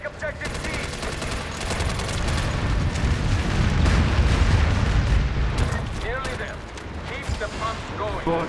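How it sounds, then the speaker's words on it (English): Airstrike bombing in the video game MAG, a dense rolling barrage of booming explosions and rapid gunfire that stays loud and continuous, with voices talking over the battle. "That airstrike was sick."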